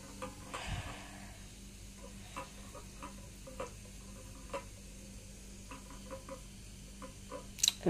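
Egg going into a hot pan of Maggi noodles, giving a soft steady sizzle with light stirring scrapes and small ticks throughout, and a louder clatter near the end.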